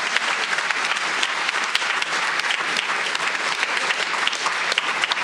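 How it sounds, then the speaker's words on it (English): Steady, dense applause from an audience at a school board session, honoring an art teacher, filling the whole stretch at an even, sustained level with no break. "I think that's a round of applause right there."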